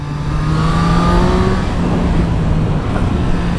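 A Triumph Street Triple RS three-cylinder motorcycle engine revs steadily and loudly nearby, a sustained droning roar with a rising and falling pitch that carries on without a break.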